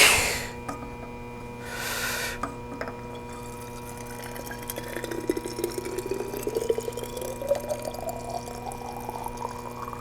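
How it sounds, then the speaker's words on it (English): Water poured from a container into glass bottles during a cooling experiment, a faint trickling stream that rises gradually in pitch as the vessel fills, quiet and close amid low background hum. "I might pour a little bit of that one out"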